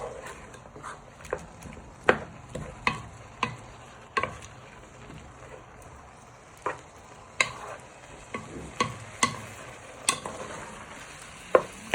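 A pan of prawn and chorizo risotto with onion and mushrooms being stirred, giving soft scraping and sizzling with sharp spoon clacks against the pan at irregular intervals, close and fairly quiet.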